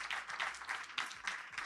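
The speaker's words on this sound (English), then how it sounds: "round of applause for the candidates that will be closing on the second" Audience applause for Miami mayoral candidates at a community town hall, a brief, fairly quiet patter of many hands clapping in pulsing waves.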